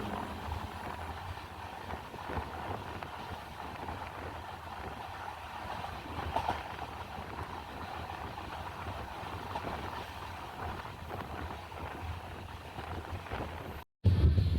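The Himsagar Express pulls into Kuzhithurai station, where platform works are under way, with a steady, even rumble and hiss from the moving train that runs throughout before briefly cutting out near the end.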